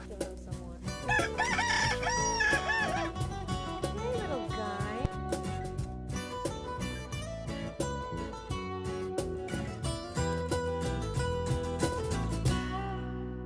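Chickens crow and cluck close by, a loud, busy chorus of overlapping calls that runs continuously throughout.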